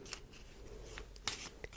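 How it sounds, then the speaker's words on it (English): Doomlings catastrophe cards being shuffled by hand at close range, soft papery riffles and sharp snapping clicks scattered irregularly over a quiet background. "we go to the catastrophes and we shuffle these up"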